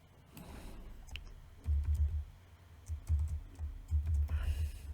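Keys clatter on a computer keyboard while code is typed for a C trading bot, uneven bursts of clicks with brief pauses, close and moderately loud with no talk.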